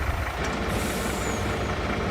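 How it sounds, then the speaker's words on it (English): A truck running steadily close by, with a sharp air-brake hiss and reversing beeps over a continuous engine rumble and no talk. "Let's unfold the truck."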